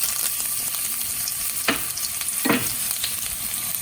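Ginger and garlic frying in hot oil with popping cumin seeds, a steady close sizzle with two sharp stirring scrapes partway through.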